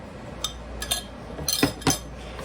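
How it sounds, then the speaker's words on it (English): A few light clinks and taps as spice mix and olive oil are added to boiled potatoes in a dish, scattered soft knocks spaced over a couple of seconds at low level. "So now I'm going to just add the spice mix that we made up earlier with the olive oil"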